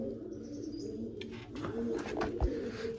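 Pigeons coo softly nearby, low throaty calls repeating over a faint background hum.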